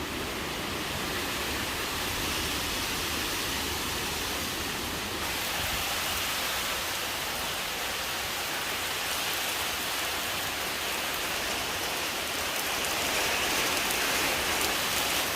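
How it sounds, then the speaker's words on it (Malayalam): Heavy rain with wind sweeps steadily over the surroundings, a dense, even hiss of downpour that holds at a constant loudness throughout with no voices. "നല്ല മഴ വരുന്നുണ്ട്."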